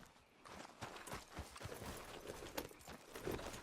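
Horse hooves clip-clop at a steady walking pace in Red Dead Redemption 2, a moderately quiet rhythm of soft thuds on open ground with light ambient game sound.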